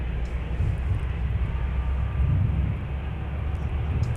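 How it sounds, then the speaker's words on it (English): A Delta heavy airliner's number 2 jet engine spools up at Minneapolis–St. Paul airport, a steady distant roar with strong low rumble and a constant broadband whine, heard alone without talk. "There's the number 2 engine starting up on Delta 162 Heavy."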